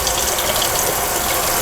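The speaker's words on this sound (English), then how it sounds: "Warm water I'm going to get from the sink." Warm water runs steadily from a kitchen sink tap into a cup, a continuous broadband gush with no pauses and no talking.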